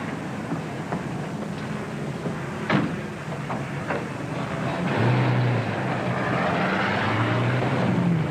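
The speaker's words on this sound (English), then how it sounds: "That plane's a honey." A propeller airplane engine drones at an airfield in a 1940s setting, a steady rumbling hum that swells louder partway through, with a few knocks and clatters early on and no talking.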